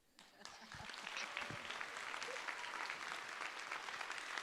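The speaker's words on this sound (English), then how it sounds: "please agree with our argument at the end of this debate with a round of applause" An audience at a debate on health and the technology industry breaks into a round of applause that swells within a second and continues as steady, dense clapping from the hall.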